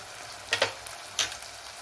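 Red chilli powder and spices dropped into a hot pan with tomato for restaurant-style lasuni methi, a soft steady sizzle broken by a few sharp stirring scrapes and spatters.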